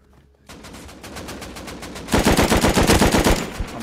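Automatic gunfire in the video game Rust, starting with a few scattered shots that swell into loud, rapid sustained bursts near the listener.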